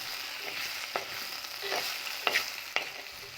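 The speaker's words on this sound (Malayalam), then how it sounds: "1 മിനിറ്റ് ഇളക്കി വേവിക്കുക" Potato pieces coated with turmeric, chilli powder and salt are stirred in a hot pan, with intermittent scraping strokes of the spoon over a low, steady sizzle, fairly close.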